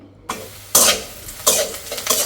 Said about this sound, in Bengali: পেঁয়াজ আর কাঁচামরিচটা একদম ভাজা ভাজা করে লাল লাল করে নিলাম